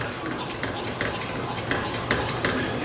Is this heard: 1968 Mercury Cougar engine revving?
no